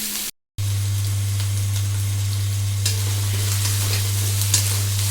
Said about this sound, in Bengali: দিয়ে মশলাটাকে ভালো করে একটু নাড়িয়ে নেব।